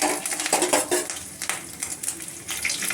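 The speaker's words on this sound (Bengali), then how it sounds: "একটু নাড়াচাড়া করে নিচ্ছি" Sabudana pulao with crushed ginger and cumin being stirred in a pan, a steady run of close utensil scrapes and clinks against the metal with a soft sizzle underneath, no talking.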